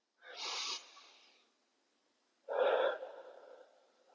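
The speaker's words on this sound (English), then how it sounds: "Really blow all that air out." Two forceful breaths during a barre exercise, a sharp rush of air and then, after a pause, a second one, close to the mic in a quiet room.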